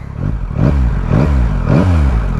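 A stock Yamaha motorcycle engine revs loudly and close, rising in pitch three times in quick succession with a rough, throaty intake drone between pulls.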